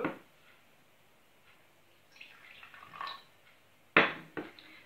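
Water trickles briefly into a bowl as bread dough is started, with a soft splashy pour in the middle and a sharper splash near the end; quiet and close.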